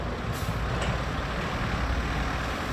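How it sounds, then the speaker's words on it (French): A heavy truck engine rumbles steadily nearby as it manoeuvres at a bridge, with a brief hiss of air brakes partway through. "Ce camion à destination de Diapaga échoue sa manœuvre."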